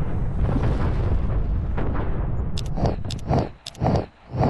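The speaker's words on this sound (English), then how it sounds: "I'm going to go bombard it once" Bombardment explosions in the Master of Orion 3 space strategy game: a long, loud booming roar that gives way to a run of sharp, distinct blasts with crackling bursts.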